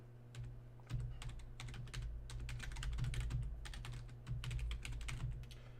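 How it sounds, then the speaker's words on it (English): Fingers type rapidly on a computer keyboard, a dense run of quiet, close key clicks with a few brief pauses over a low steady hum, no talking. "I'm going to type it in here"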